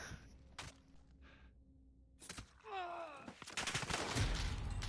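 AK rifle fire in the shooter Warzone, quiet and somewhat distant, with a few isolated sharp shots early, then denser bursts mixed with game noise and a brief voice-like tone.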